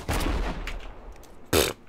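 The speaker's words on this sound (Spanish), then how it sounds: "Vamos a ver la explosión, ¿no?" A blast in the video game Industria: a loud, rumbling burst up front, then a second sharp boom near the end, with no talk.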